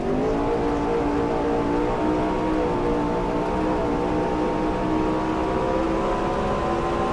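Race cars from a 1972 Grand National East season in the NASCAR Racing 2003 video game drone continuously, a steady high engine whine with layered harmonics, loud and unbroken throughout.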